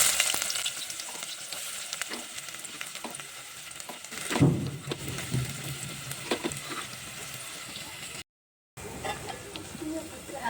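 Sliced onion frying in hot oil with whole spices, bay leaf and ground masala for a Marathi-style masala chicken, a steady close sizzle with occasional stirring scrapes and a louder burst of crackling midway.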